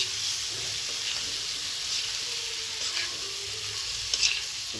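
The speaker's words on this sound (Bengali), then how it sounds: "এরপর ক্যাভিয়ারগুলো দিয়ে দিচ্ছি, দিয়ে হালকা আলতো করে নেড়ে চেড়ে দিচ্ছি" Caviar is stirred gently in a hot frying pan with spices, a steady soft sizzle with faint scraping and stirring touches, close and alone without voices.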